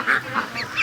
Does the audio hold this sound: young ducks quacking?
yes